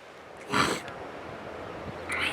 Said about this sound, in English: You have to forgive my sniffing and sniffling.